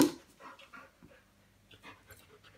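A small white dog whimpers and pants in short, soft bursts, close by, with quiet breathy yelps scattered across a few seconds.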